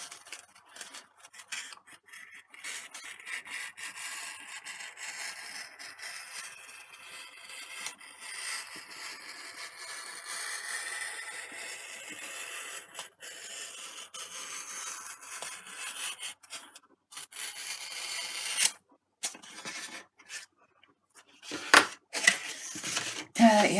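A blade scoring a double bevel into foamboard for a Pitts Special chuck glider, steady close scraping and rubbing strokes that continue throughout, ending in a few sharper clicks and handling noises.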